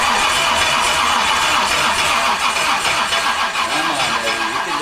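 An old Firebird barn find cranks on its starter, a loud, continuous, rapid mechanical churning that runs nonstop for several seconds close by without catching.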